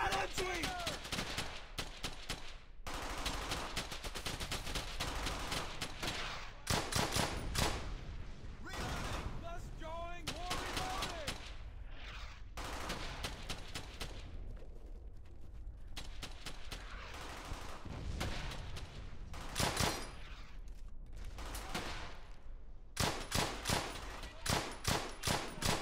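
Brothers in Arms: Hell's Highway World War II firefight with long ripping bursts of MG-42 machine gun fire and scattered rifle shots, loud and continuous, broken by short pauses, with soldiers shouting at times.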